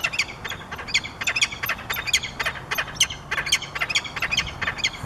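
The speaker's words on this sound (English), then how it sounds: "definitely making the chirp noise." A bird gives a repeated chirping mating call, close and loud, with sharp squawky notes in quick irregular bursts throughout.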